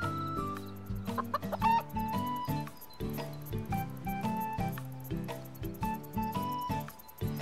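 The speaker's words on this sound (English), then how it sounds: "A chicken." Chicken clucking in Harvest Moon: Winds of Anthos, short repeated clucks over a steady, tonal game music track that plays throughout.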